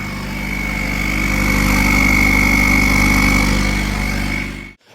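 A Peugeot 306 diesel turbo (XUD) engine idles steadily up close, a loud continuous rumble with a faint high whine on top, running alone for about five seconds before cutting off abruptly.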